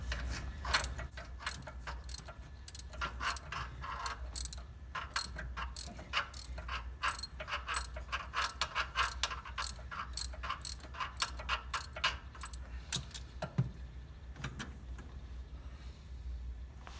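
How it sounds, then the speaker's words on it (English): A hand ratchet works spark plugs out of a big block Mopar engine in a truck, giving rapid, close clicking bursts in repeated strokes over a quiet low hum. "I'm attempting to get the plugs out"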